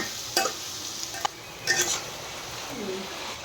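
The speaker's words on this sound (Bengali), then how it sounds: "দিয়ে দিলাম চিংড়ি মাছ ভালো করে নেড়ে চেড়ে ভেজে নিচ্ছি চিংড়ি মাছগুলো" Prawns sizzle in a pan with chopped tomato, a soft frying hiss broken by a few short scraping stirs and a light clink of a utensil against the pan.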